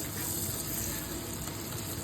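Onions fry in a pan, softening in oil, giving a close, constant crackling sizzle with a faint stir near the end and no voices.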